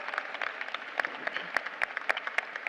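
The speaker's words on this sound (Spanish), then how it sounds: "Un fuerte aplauso." A brief round of light applause at a panel on standardized education assessments, scattered claps from a small audience, fairly faint and tapering.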